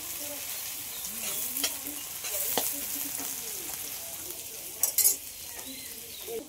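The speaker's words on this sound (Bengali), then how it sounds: "আর একবারে মাংস দিয়ে মাখিয়ে চাপিয়ে নেব।" Meat and potatoes sizzle as they fry in an old wok, with repeated scraping stirs and occasional utensil clinks, close and steady, and a brief voice at moments.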